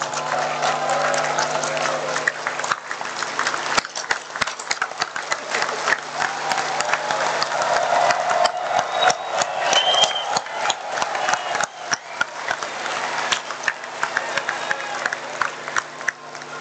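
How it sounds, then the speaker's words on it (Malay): Sustained applause from a large audience standing in an assembly hall at a political party gathering, dense continuous clapping with crowd noise and scattered cheers throughout, loud and steady. "Mari kita berikan standing ovation kepada beliau."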